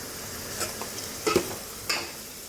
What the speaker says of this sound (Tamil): வெங்காயம் போட்டாச்சு, கூடவே கொஞ்சோண்டு புதினா போடுறோம். அது கூடயே வெங்காயம் நல்லா வதங்கிறதுக்கு கொஞ்சமாக உப்பு.